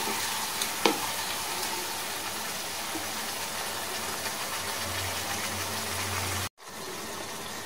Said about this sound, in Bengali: ভালো করে তেল ছাড়া পর্যন্ত এটাকে নাড়াচাড়া করতে হবে বা কষাতে হবে।